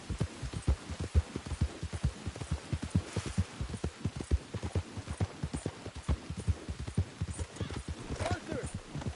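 Horse hooves clip-clopping steadily in Red Dead Redemption 2, a fast, continuous trotting rhythm close up with a brief whinny-like sound near the end and faint background ambience.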